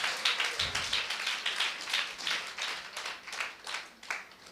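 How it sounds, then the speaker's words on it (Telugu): A church congregation claps in praise, a steady rhythmic run of hand claps, close and fairly loud, with little speech over it. "ఒక్కసారి ఆయన నామాన్ని బట్టి చప్పట్లు కొడదాం"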